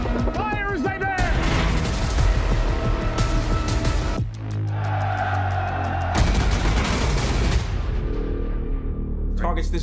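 Naval guns fire in a wartime sea battle scene, heavy booming blasts and crashing impacts layered with dramatic score and rumbling low end, with a brief shouted voice near the start.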